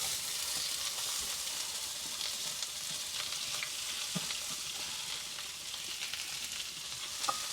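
Onions sautéing in hot oil with mustard seeds and cumin give a steady, close sizzle with faint crackles and an occasional louder pop, and no one speaks.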